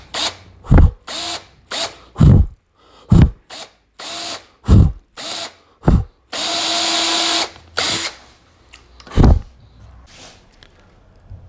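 A power drill fitted with a 5 mm bit and a 10 mm depth stop bores dowel holes into a wardrobe cabinet panel. The close, loud motor whirs come in short repeated bursts, with one longer steady run partway through.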